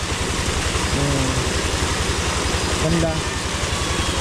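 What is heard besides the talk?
engine running strongly after bushing replaced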